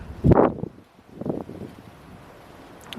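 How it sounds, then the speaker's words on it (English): Gusts of wind buffet the microphone in two rough bursts, then settle into a low, steady rush. "It's a little windy up here"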